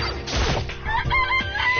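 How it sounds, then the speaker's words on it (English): A short, loud burst of rooster crowing and clucking in Danganronpa: Trigger Happy Havoc, harsh and close, over in under two seconds. "It's a chicken."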